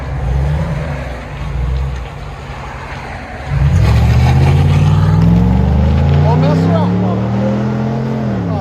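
A 2015 Ford F-150 XLT pickup with a 5.0-liter Coyote V8 and loud aftermarket exhaust idles with a deep burble, then revs hard into a sustained roar that rises and falls in pitch, close and loud.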